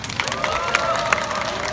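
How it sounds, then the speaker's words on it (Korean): Crowd at a student rally clapping after a speech, a sustained busy patter of hands with some cheering mixed in, fairly loud and continuous, with voices underneath. "다시 한번 박수"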